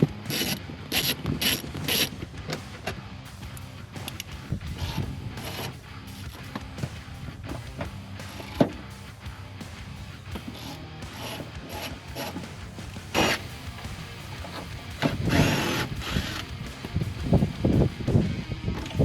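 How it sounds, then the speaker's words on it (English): A ratchet wrench clicks in bursts while unbolting car seats from the floor rails of a car being gutted for figure 8 racing, with rapid pawl clatter, metallic clunks and rubbing sounds from close by. "So I got the seat unbolted."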